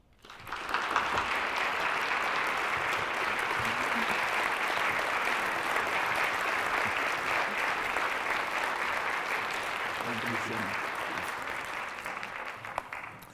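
An audience in a hall applauds to welcome a speaker, a broad, sustained wash of many hands clapping that swells quickly, holds steady for over ten seconds, then tapers off, with faint murmurs underneath.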